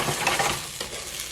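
Brown long grain rice being tossed with onions and garlic in olive oil, a soft steady sizzle with scraping stirs, close and alone for just over a second.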